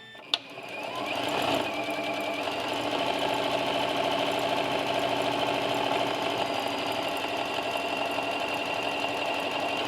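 A sewing machine runs steadily for nearly ten seconds, stitching quilt strips together one after another, its fast mechanical whir close and even after a brief start, with no talk over it.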